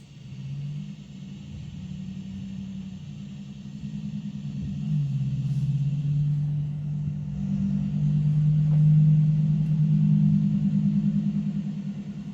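A truck engine rumbles in a low, steady drone at night, swelling gradually louder and revving slightly as it idles and moves nearby, with no talking.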